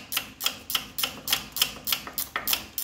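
Steady, rapid series of sharp metallic clicks, about four per second, as bolts are tightened on a Ford Model A water pump, close and alone with no talk.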